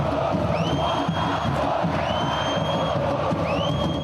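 Vasco da Gama (Cruz Maltina) supporters taunting from the stands during a football match against Botafogo: a loud, continuous crowd roar with shrill rising whistles cutting through at intervals.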